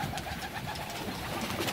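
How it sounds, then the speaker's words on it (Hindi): A flock of pigeons gathering at drinking water, with soft cooing and rustling heard close by, steady throughout. "ये फ़ौरन पानी के ऊपर आ गए सारे कबूतर"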